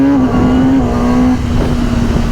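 A 2021 Kawasaki ZX-10 sport bike accelerates hard in first gear, its engine a loud, close, steady roar with a rising whine that dips briefly partway through.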